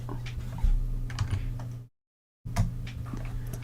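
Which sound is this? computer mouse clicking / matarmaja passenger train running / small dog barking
computer mouse clicking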